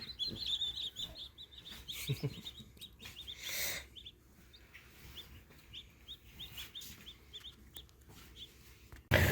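Freshly hatched baby chicks peep in a high, rapid chorus of short chirps in a brooder on a homestead, with a few louder handling bumps and a brief rustle near the end.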